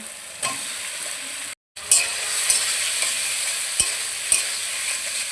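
Pre-fried potato and pointed gourd pieces stir-fried in a salt, turmeric, ginger and chili masala, a steady loud sizzle up close with a brief cut partway and occasional sharp scrapes of the spatula against the pan.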